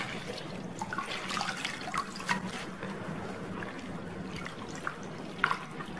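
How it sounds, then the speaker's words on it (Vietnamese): Cabbage soaked for kimchi being rinsed in water: steady splashing and trickling with small irregular drips and sloshes, close and continuous. "bây giờ thì rửa lại và ép cho nó ráo nữa là được ha"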